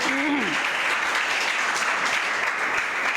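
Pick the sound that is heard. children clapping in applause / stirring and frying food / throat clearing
children clapping in applause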